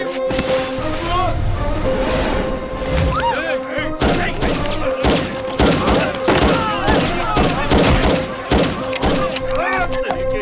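Gunfire in a comedy action film scene: rapid bursts of loud shots and thuds, dense and sustained, mixed with music and shouting voices.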